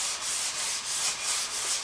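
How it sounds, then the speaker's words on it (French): Brass brush scrubbing a ski base to clear sand grains and dirt: steady back-and-forth bristle strokes, about six even rasping passes, close and alone. "je vais donner quelques coups de brosse de laiton, simplement pour enlever les grains de sable et puis un peu de saleté là, qui s'est accumulé sous la semelle"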